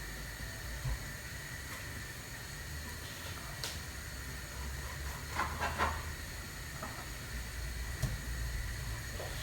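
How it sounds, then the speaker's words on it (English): A pot of water on the stove, not yet at a rolling boil, gives a continuous low rumbling hiss with occasional faint pops and ticks, steady and fairly quiet throughout. "Water boiling, but that's not proper bubbling"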